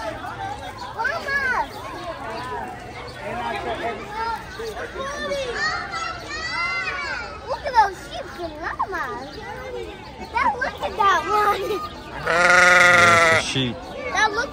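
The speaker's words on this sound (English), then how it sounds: "Look at that one. Yeah, it's a sheep." Children chatter and play at a zoo while a sheep bleats now and then, with one loud, drawn-out bleat standing out near the end.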